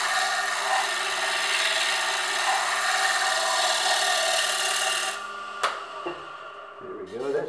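Wood turning on a lathe with a Hunter Viceroy tool, the tool rest moved out and a finger on the work damping vibration: a steady, close scraping cut runs for about five seconds, then stops into near quiet with a few small knocks.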